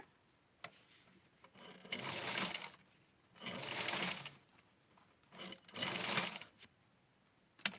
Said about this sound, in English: I'm just going to sew it and then fold it over.